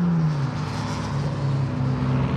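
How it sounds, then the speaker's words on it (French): A Ford GT40 engine runs loud and close at a paddock and track event, holding a steady low drone with a slight dip and rise in pitch, no voices. "Une GT40."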